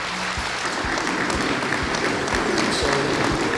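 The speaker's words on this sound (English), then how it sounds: "thank you for that wonderful applause" Warm audience applause welcomes a speaker at a LIUNA prostate cancer event, a sustained, even wash of many hands clapping from start to finish.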